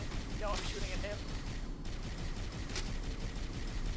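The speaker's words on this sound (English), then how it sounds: "Are you shooting at me? No, I'm shooting at him." Gunfire in the video game Halo: Combat Evolved, a steady wash of shots and battle noise running throughout without a clear break.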